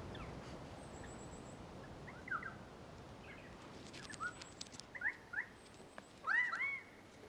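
Crimson rosellas and currawongs calling among snow gums in the Australian Alps, scattered short whistles and chattering notes, some sharp and close, over a soft outdoor hiss.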